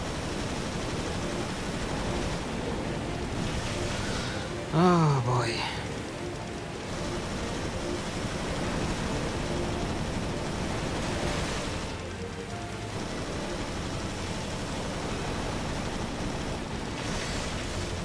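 Choppy water waves wash steadily in Resident Evil: Revelations, a constant surging hiss with a brief spoken exclamation over it.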